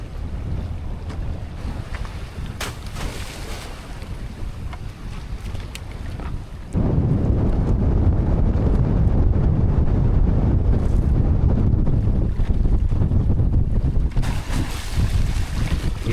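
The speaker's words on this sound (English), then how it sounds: "Oh, the wind caught us." Wind gusts over a small stone-crab trapping boat on open water, producing a constant loud buffeting rumble that grows sharply stronger partway through, with water sloshing beneath.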